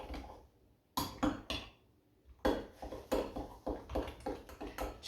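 Apple pie filling thickening with starch in an Instant Pot, stirred with a spoon that taps and scrapes against the pot in repeated close clatters, irregular at first, then a steadier rhythm.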